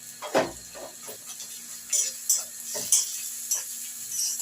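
Onions being stirred and lightly sautéed in a pan over a gas flame, with a few soft scraping strokes and a faint sizzle, fairly quiet with no talk.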